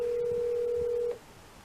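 A telephone tone sounds as a single steady pitch while a call is placed, holding for about a second before cutting off and leaving faint room noise.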